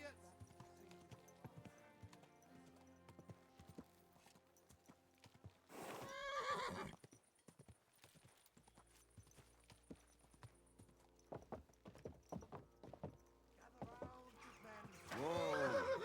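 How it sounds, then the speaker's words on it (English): Hooves clip-clop at a gallop and a horse gives loud whinnies in Kingdom Come Deliverance 2, with a rider speaking and game voices between the calls. "Easy, good horse."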